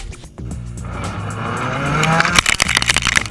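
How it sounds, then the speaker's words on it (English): Ford Fiesta two-wheel drive rally car moving off at the start of its stage at a desert rally, engine rising to a loud, harsh roar with rasping revs and gravel noise toward the end. "The second two-wheel drive car to begin"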